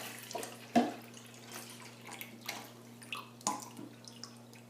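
A kitchen tap runs water into a measuring glass, a soft splashing stream with small knocks and clinks of the glass, under a faint steady electrical hum.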